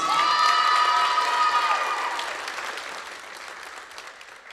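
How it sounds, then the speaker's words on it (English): A crowd at a high school volleyball match applauds and cheers for the Lady Kahok seniors and their families, a loud, dense wash of clapping with whoops and a high sustained tone that slowly fades. "let's give one more big round of applause for our Lady Kahok volleyball seniors and their families"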